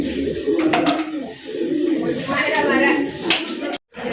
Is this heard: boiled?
no